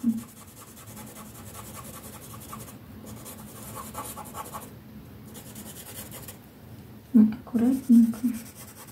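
Red and black colored pencil scratching on paper in a drawing session, a soft continuous scribbling texture with brief louder strokes near the end, close and quiet.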